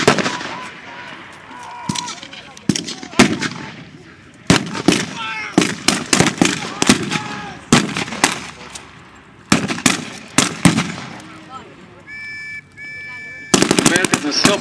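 Heavy MG-43 machine gun fire at a World War II battle reenactment in Iola: repeated loud, rattling bursts of varying length with short gaps, joined by scattered single shots.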